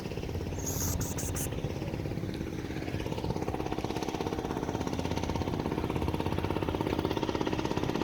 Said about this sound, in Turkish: Gır gır gır gır gır geliyor. Kocaman motor.